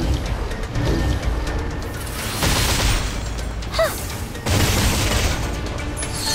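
Gunfire barrage in the video game Reverse: 1999, a sequence of loud booming shots and crashes with brief chirping effects between, heard close and alone.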